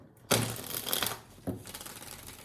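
Close, loud riffles of a Rider tarot deck being shuffled, a long crackling burst followed by a second shorter one, the cards snapping together with a papery rattle.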